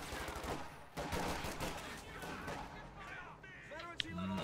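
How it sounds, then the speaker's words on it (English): Automatic fire from an AA half-track's big gun in Company of Heroes 2 rattles out in dense overlapping bursts, layered with other battlefield shots and a sharp crack near the end, while a voice talks over the combat. "Volksgrenadiers take 2 casualties as the big gun of the AA half-track starts firing on them"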